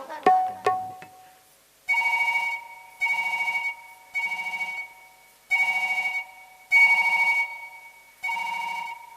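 Telephone ringing in a Chhattisgarhi nacha gammat folk theatre performance: after a few clattering sounds, an electronic ring repeats in six evenly spaced bursts, loud and close, with no talk.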